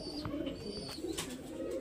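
A male pigeon coos softly in a low, steady murmur, close by and faint, with no voices over it.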